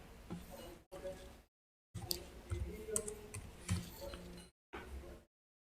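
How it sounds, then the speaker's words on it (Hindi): Quick clicks of typing on a computer keyboard while entering numbers into an on-screen graph, close and fairly quiet, coming in short bursts separated by silent pauses. "मुझे काफ़ी ज़्यादा यहाँ पे टाइप और स्लोली करना पड़ रहा है"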